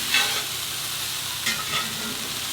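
Cooked turkey is stirred into an egg roll stir fry in a hot pan, a steady soft sizzle broken by a few scraping strokes of the spatula.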